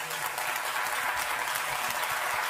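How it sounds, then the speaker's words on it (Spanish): A conference audience at a financial seminar for lawyers applauds the speakers, a loud, sustained burst of many hands clapping that holds steady for the whole short stretch. "agradecemos a los ponentes y un aplauso."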